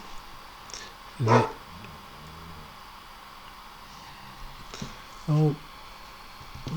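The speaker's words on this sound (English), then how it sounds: "There's my gnarly dog having a bark." A dog gives two separate, sharp barks several seconds apart, each short and fairly close, over a quiet room background.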